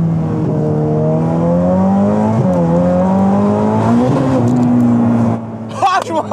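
A sports car's engine revs up and down in loud, steady harmonic sweeps with the pitch rising and falling, then drops away near the end into a few sharp crackles and voices.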